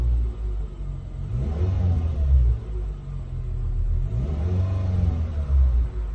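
A 2001 Toyota Yaris engine turns over and catches, then rumbles at a low idle with a couple of revs, close and steady throughout.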